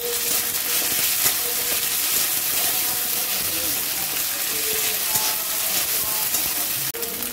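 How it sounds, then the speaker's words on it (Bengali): Ginger-garlic paste fries in hot oil in a wok with browned onions, giving a steady, close, crackling sizzle with light stirring scrapes and a sharp utensil knock near the end. "এরপরে আমি একটু আদা রসুনের পেস্ট দিয়ে ভালো করে ভেজে নেব।"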